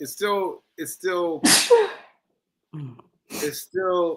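A single sharp sneeze bursts out between stretches of close conversational speech during a talk show, loud and brief, with people talking before and after it.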